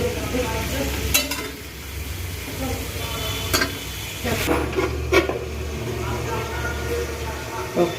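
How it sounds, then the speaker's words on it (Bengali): Meat fries in a pan with turmeric and chili powder for a meat khichuri, a steady sizzle with occasional sharp scrapes and clicks as it is stirred. "একটু হলুদ আর একটু লঙ্কা গুঁড়ো দিয়ে আমি এটাকে ভালো করে একটু ভেজে নেব"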